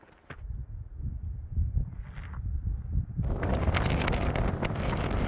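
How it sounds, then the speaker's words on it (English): Wind on a mountain pass on the Pacific Crest Trail buffets the microphone, gusting unevenly at first and then rising into a sustained loud roar for the last couple of seconds. "Starting to get pretty windy again."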